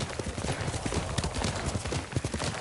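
Hooves of a horse in the video game Ghost of Tsushima clip-clop in a quick, uneven rhythm, close and fairly loud, with muffled thuds layered over a low ambient bed.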